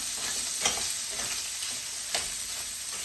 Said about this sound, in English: We just wanna saute these until they start to brown.